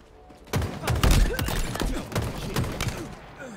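Gunfire bursts in the Halo Infinite video game: a run of sharp reports starting about half a second in, close and fairly loud, with smaller impacts following throughout.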